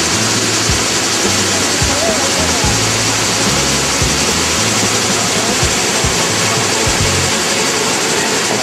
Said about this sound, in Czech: To je nádherný pohled na vodopády.